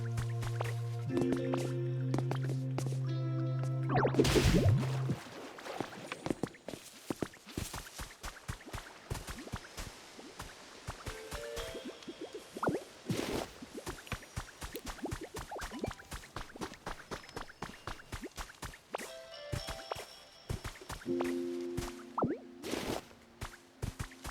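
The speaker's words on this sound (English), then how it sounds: "let's make a water flow over here." Water flows in the Pokemon Pokopia video game as a string of quick, crisp drips and plops, close and irregular, between short tonal game chimes and a brief burst of splashing near the start.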